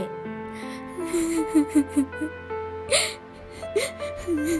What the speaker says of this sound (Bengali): আরে কান্না করছেন কেনে?